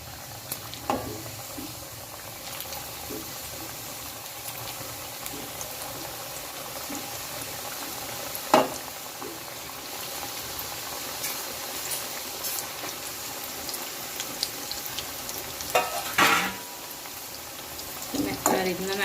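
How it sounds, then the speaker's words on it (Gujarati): Methi mathri fries in oil over a low gas flame with a steady, soft sizzle and bubbling throughout, broken by occasional clinks and a few louder clatters. Someone talks over it. "આ રીતના આપણે ધીમા ગેસે તળી લેવાનું છે"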